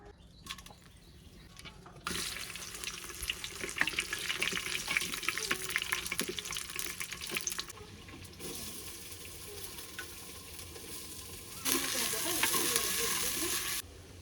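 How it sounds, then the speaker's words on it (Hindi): Onions frying in plenty of oil in a clay handi, a loud crackling sizzle with stirring that fades partway through, then a bright rushing hiss returns near the end. "तो संगवारी मन प्याज जो है वो भून चुके हैं।"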